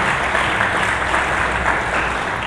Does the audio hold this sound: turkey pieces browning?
no